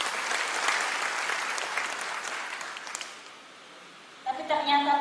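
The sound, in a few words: audience applause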